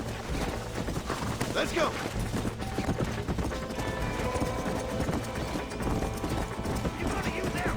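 Horse hooves clip-clop steadily over the ground in the video game Red Dead Redemption, running under game music and effects while someone speaks briefly.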